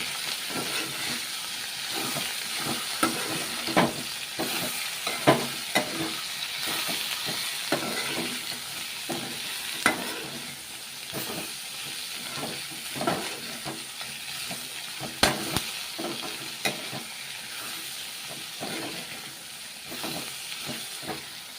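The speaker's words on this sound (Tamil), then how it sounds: "உப்பு போட்டு நல்லா வதக்கணும்." Ivy gourd sautés in a pan with salt, giving a steady close sizzle and hiss punctuated by frequent irregular scrapes and taps of a spatula as it is stirred, with no voices.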